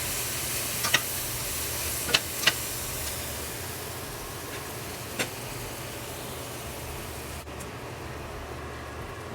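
Onions and mushrooms sizzling in butter in a hot pan, a steady soft hiss throughout with a few faint clicks of utensils, no talking.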